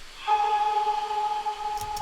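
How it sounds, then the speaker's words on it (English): Atmospheric vocal sample tones from an electronic dance remake hold a soft sustained pitch with faint overtones, quiet and airy, ending with a light tick. "like atmospheric sort of tones"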